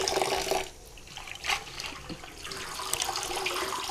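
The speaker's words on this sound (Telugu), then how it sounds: "ఇంకొకసారి ఇట్లా కడిగి దీంట్లో వేసుకోవాలండి, వడగొట్టేసుకోవాలి." Water splashes and runs while leafy amaranth greens are rinsed by hand in a kitchen, a continuous wet rushing with a few louder splashes, close and alone without talk.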